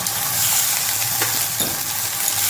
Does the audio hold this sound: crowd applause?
no